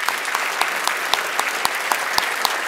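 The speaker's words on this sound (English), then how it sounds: "I would like to ask everyone to take a well-deserved round of applause" Audience at an awards ceremony for community finalists gives a round of applause, a loud, sustained wash of clapping with sharp individual claps standing out, no voices over it.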